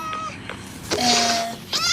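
A cat in the Minecraft video game meows a few times in short, close calls, mixed with brief game sounds and a small voice in the background.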